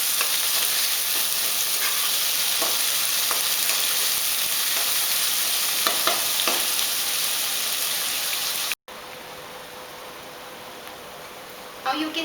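Onions frying in a pan for chapati egg noodles, a dense, even hiss like rain, broken by a few soft stirring scrapes, then quieter after a short gap.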